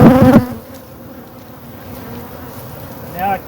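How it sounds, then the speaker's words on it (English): Honey bees from a split hive buzz steadily up close, a dense continuous hum with individual insects droning past, after a brief burst of sound at the start. "The bees that know where home is, they're now all bearded up here, trying to get back in the entrance."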